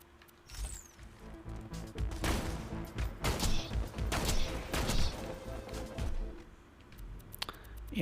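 Slag sniper rifle fire and combat in Borderlands 2, a string of loud sharp shots and crashing impacts clustered over several seconds before fading to quieter effects.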